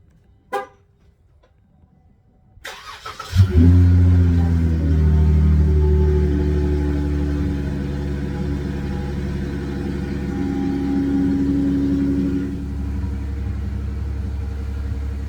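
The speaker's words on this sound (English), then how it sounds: "So let's go ahead and get that remote start for cold start." A V6 car engine cold-starting by remote start, with a short click and chime first, then the starter cranking and a loud, steady idle rumble that settles slightly as it holds.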